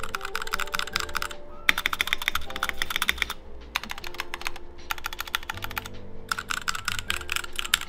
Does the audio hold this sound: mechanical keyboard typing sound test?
yes